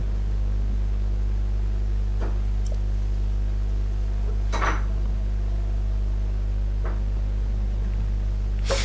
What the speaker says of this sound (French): le bruit que vous entendez à côté, c'est Christa qui fait une délicieuse mousse au chocolat.